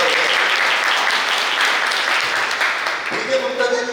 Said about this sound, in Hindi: तो अगर तालियां बजाने तो अब तक के लिए सबके लिए बजाने